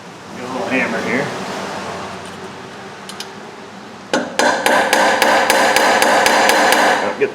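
A small hammer taps 3/16 brake line into a hose on a Subaru 2.5, a rapid series of sharp metallic strikes in the second half after quieter handling noise and faint talk.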